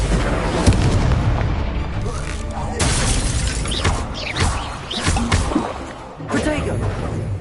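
Incendio fire spell blasts in the Hogwarts Legacy video game, a series of loud booming bursts and crackling impacts in quick succession under dense combat noise, with voices talking over them.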